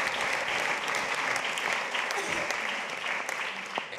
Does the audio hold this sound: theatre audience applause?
yes